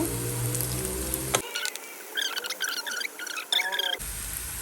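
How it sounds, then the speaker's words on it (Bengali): An onion fries in oil for tempering goat meat curry, with a loud sizzle that cuts off abruptly, leaving quieter crackles and stirring scrapes before the full sizzle returns at the end. "আর এখানে আমি একটা পেঁয়াজ, আমি এটা বাগার দেওয়ার জন্য ভেজে নিচ্ছি।"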